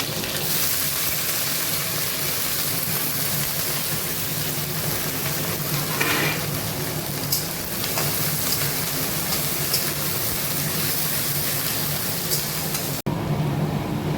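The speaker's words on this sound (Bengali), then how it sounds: "ফুলকপিটা ভাজা হচ্ছে" Cauliflower and capsicum fry in a pan with fennel seeds and panch phoron over lowered gas, giving a steady, dense sizzle that runs for about thirteen seconds before cutting off abruptly.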